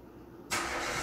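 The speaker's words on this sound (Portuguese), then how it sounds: "Minha mãe vai ligar o carro daqui a pouco" A family car parked at home starts up halfway through: quiet room tone, then the engine catches and settles into a steady, fairly loud idle with no voices.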